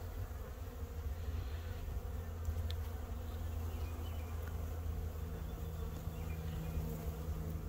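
A swarm of honeybees, roughly 3 to 4 pounds, buzzes in a continuous low drone, dense and close, with occasional individual bees flitting past.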